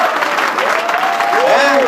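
An audience in Montreal applauds after a personal testimony. The clapping is steady and moderately close, and a speaking voice runs through it.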